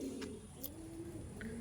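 Andhra pigeons, a kalshira pair, give soft, low, drawn-out coos, faint and close, with a couple of brief high chirps from other birds.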